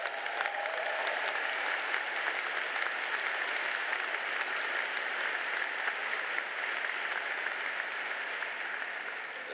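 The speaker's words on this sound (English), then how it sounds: "Can we give them another round of applause?" A graduation audience at an MBA ceremony claps in a long, dense, steady burst of applause, evenly sustained for nearly ten seconds from a large crowd.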